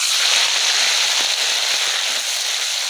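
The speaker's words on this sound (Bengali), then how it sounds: "এবার চিংড়ি মাছটাকে ভেজে নেব।" Prawns fry in hot oil, making a dense, continuous sizzling crackle that stays loud and close throughout with nothing else over it.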